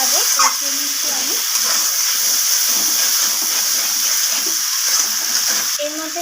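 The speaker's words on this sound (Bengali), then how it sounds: "তো আবারও সব কিছুকে এইভাবে কষিয়ে নিচ্ছি আমি।" Spices with chana paneer masala sizzle steadily while being sautéed and stirred in a pan, a loud, continuous close frying hiss with brief scraping and stirring clatter, and someone speaks over it.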